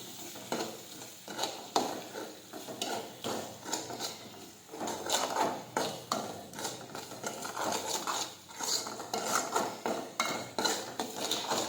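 A spoon stirs sugar and lemon juice into dal, giving repeated scraping clinks against the pot in an uneven but steady rhythm, close and moderately quiet.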